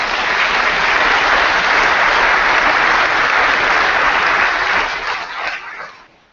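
An audience claps steadily and fairly loudly for several seconds, then the applause thins out and fades away.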